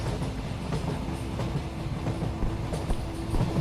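Train rumbling past in a horror video game, a steady low roar with rhythmic clickety-clack of wheels on rails and faint squeals, loud and continuous with no talking.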